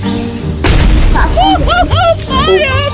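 Explosion in the video game Scary Teacher: a loud, sharp boom bursts in early and dominates the clip, followed by bright whistling and sweeping cartoon-style tones with game effects.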